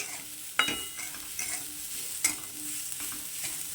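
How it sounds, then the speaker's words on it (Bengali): Coconut and sugar filling for pitha being stirred and fried in a pan, with intermittent scrapes and clinks of a spatula over a soft, steady sizzle, close and moderately quiet. "নারকোলটা দিয়ে দিয়েছি আর কিছুটা চিনি আমি দিয়ে দেবো এটার মধ্যে অল্প চিনি দিয়ে দিয়েছি এবার এটাকে একটু ভালো করে ভেজে নেবো"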